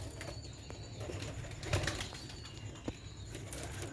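Sialkoti pigeons make soft, faint wing flaps and scattered rustles, with a couple of louder flutters standing out against a quiet background.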